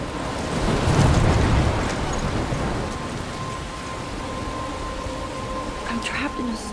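Heavy rainstorm in the video game Life is Strange, near a lighthouse; steady dense rain hiss with a deep rolling thunder rumble early on, then faint scattered sounds as the downpour continues.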